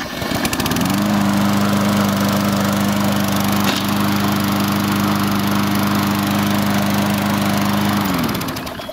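A Husqvarna LC348VE lawn mower engine, its AutoWalk self-propelled drive faulty, runs with a steady, loud, close drone that starts about a second in and cuts off near the end, with no voice over it.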